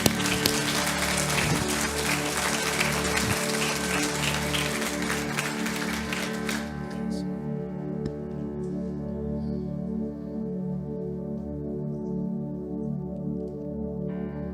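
A church congregation claps for a pastor couple as they come up, a dense burst of applause that fades out about halfway, leaving a held musical chord ringing on alone.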